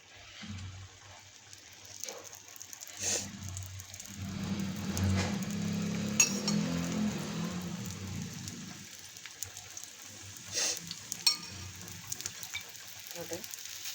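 Thalipeeth, a Maharashtrian flatbread, frying in oil on a tawa gives a soft, continuous crackle that grows in the middle. A few sharp clicks and taps are scattered through it, and a low background hum underlies it.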